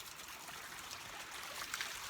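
A small creek flows steadily outdoors in cold air, a soft continuous hiss and trickle of running water, fairly close and even in level throughout, with no voices.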